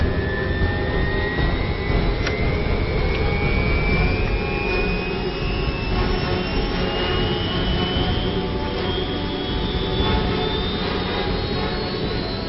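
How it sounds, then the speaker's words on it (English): A helicopter's engine roars steadily and loudly throughout in a cold snowy setting, a continuous close turbine whine with a rising pitch and no talk. "Ted, I had no idea you knew how to fly a helicopter."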